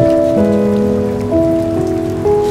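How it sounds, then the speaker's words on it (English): Steady rain pouring onto a surface, dense and continuous, loud and close, with a low tone shifting underneath. "add like rain sounds because I'm sad"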